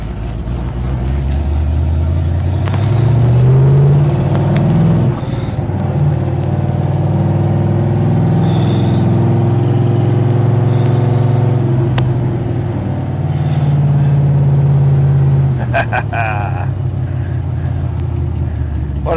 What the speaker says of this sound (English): Beautiful day to take a Shelby GT500 out for a little drive down the freeway.